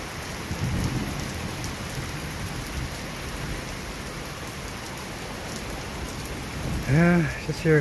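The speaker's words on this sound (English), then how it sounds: "Yeah, just your garden variety thunderstorm." A garden-variety thunderstorm brings heavy rain hissing steadily throughout, with a low rumble of thunder early on and a brief louder burst near the end.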